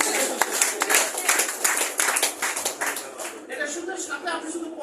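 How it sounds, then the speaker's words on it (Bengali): Audience members clap loudly in fast, crisp bursts that thin out and fade toward the end, with some voices audible beneath. "জোরে একটা হাত তালি"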